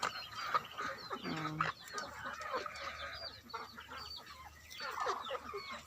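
Hens cluck and chatter nearby in a farmyard, a steady mix of soft clucks with a couple of louder calls.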